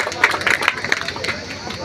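Audience clapping at a community gathering honoring social reformers, a short burst of scattered hand claps with crowd murmur, fairly close and moderately loud.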